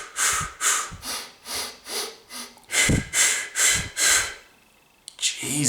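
Series of deep, deliberate breaths in a rhythmic breathing technique, roughly nine close airy inhales and exhales in steady succession, then a brief pause before another breath begins.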